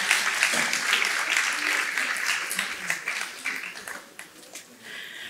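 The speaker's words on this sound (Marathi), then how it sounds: "त्याबद्दल स्वतःसाठीच एकदा छान टाळ्या वाजवूया असं मला वाटतं." Audience applause fills a hall at a live historical music and dance performance, dense steady clapping that holds strong before thinning slightly toward the end.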